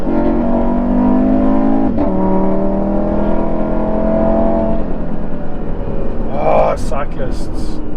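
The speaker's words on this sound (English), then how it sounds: "Let's see what this 5-cylinder feels like, how that 270 kilowatt translates into speed." An Audi RS3 with a 270 kW five-cylinder engine accelerates hard, its rising growl heard steadily from inside the cabin before it eases off, with a voice briefly present near the end.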